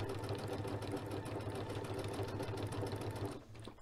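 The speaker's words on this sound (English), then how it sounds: "So you do want to stitch at like a relatively consistent pace." A sewing machine fitted with a circular sewing attachment stitches at a consistent pace, producing a steady, close mechanical hum with a rapid needle rhythm that runs continuously before cutting off near the end.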